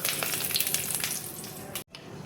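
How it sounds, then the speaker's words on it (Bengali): Bay leaves and whole garam masala crackle and sizzle in hot oil and ghee, a bright close frying hiss with small pops that cuts out for a moment near the end. "এবার দেখো তেলের মধ্যে তেজপাতা দেখো দিয়ে দিচ্ছি, গোটা গরম মশলা দেখো দিয়ে দিচ্ছি"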